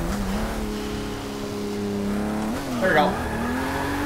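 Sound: 1979 Datsun handbrake slide, tire squeal, Forza 6 video game

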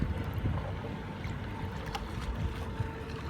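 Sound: CarpMaster fishing bait boat with Falcon 3542 motor at full throttle

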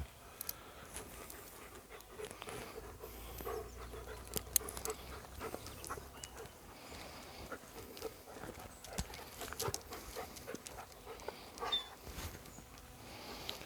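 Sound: German shepherd dog found in forest

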